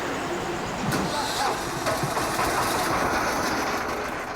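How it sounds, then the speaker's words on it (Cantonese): A fishing boat's motor drones steadily on the Bei River, a continuous broadband rumble with no pauses and no speech. "漁船嘅馬達聲再次響起"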